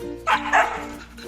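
A dog gives two sharp, loud barks close by in quick succession, followed by a low whimpering tail.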